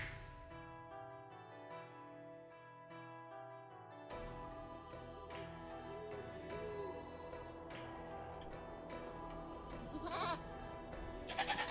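Goat bleats from the Age of Empires 2 DE real-time strategy game, a few short game-audio cries over busy background game sounds and music, with no talk.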